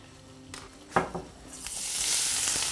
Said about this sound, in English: just make sure the oil is hot enough to fry them off